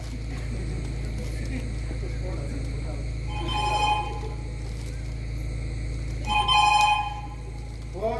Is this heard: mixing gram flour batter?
no